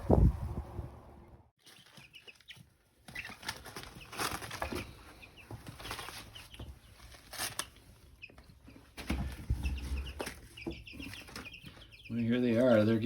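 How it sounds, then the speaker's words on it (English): Young meat chickens, growing in their big feathers, cluck and chirp softly nearby with occasional wing flaps, amid rustling and a person's voice speaking at times. "They're nice little chickens."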